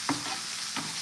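Chopped onion sautéing in a pan for a mushroom sabzi, a brief steady sizzle with two quick scraping stirs near the start and end.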